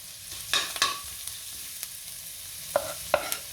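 Minced garlic sautéing in hot oil in a pan, a soft background sizzle broken by a few sharp scrapes and clanks of a spatula stirring, with no one speaking.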